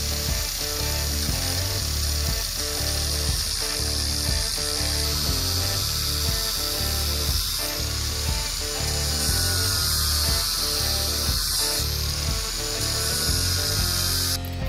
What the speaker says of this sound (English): I did the angle grinding itself, which is a very messy, noisy, and hot business.